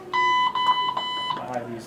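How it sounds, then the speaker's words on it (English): A high electronic beeping from an IV pump repeats in quick pulses, then a voice begins talking as the beeps stop. "my IV is beeping"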